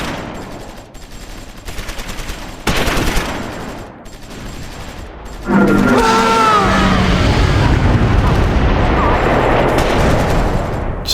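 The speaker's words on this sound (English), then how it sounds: "Let's hit them with an airstrike." An A-26 airstrike in the Close Combat 4 war game: scattered gunfire gives way to a loud, sustained roar of rolling explosions that fills the rest of the clip.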